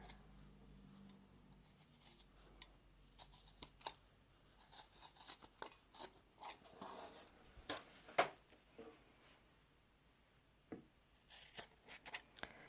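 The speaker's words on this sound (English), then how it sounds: "we probably want to clip a little bit around those corners to reduce some bulk" Scissors clip the fabric corners of a quilt block in a close, quiet series of crisp snips, irregular and in small clusters, with faint rustling of cloth between cuts.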